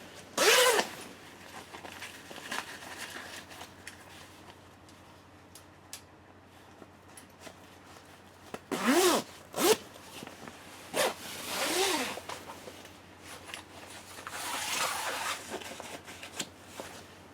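Zipper on a boat guard cover being zipped closed in several separate pulls, close and crisp, with short gaps and soft rustling of the fabric between strokes.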